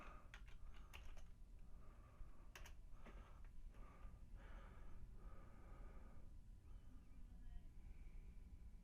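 Someone typing on a computer keyboard: faint, quiet clusters of key clicks, some sharper taps early on, with soft breathing and sighs audible nearby and no clear speech.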